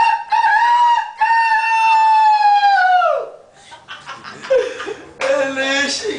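A rooster crows loudly and close at a carnival, one long drawn-out call, followed by brief scattered noises and a second crow starting near the end.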